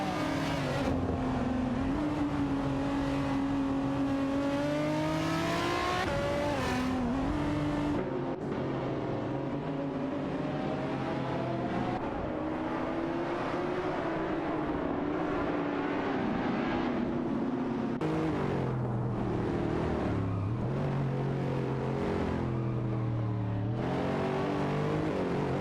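Race cars, a Honda NSX and a Lamborghini Murcielago, scream through an AI racing video game with sustained high engine whines that rise and fall through gear changes and passes, loud and continuous.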